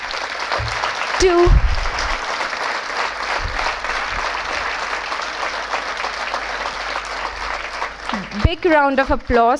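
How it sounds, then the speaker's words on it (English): A book launch audience gives a sustained round of applause, thick clapping that swells early and carries on steadily, before a voice starts speaking near the end. "I request you all to please join me in giving a big round of applause"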